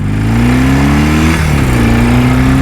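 A 1979 BMW R100S motorcycle pulling away, its loud, close boxer-twin engine rising in pitch through the gear, dipping briefly at a shift, then climbing again; no talking.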